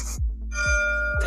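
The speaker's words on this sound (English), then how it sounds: "There's a little bell in the background." A small bell rings in the background with a bright, sustained tone that decays steadily, together with low repeated thumps and continuous background sound.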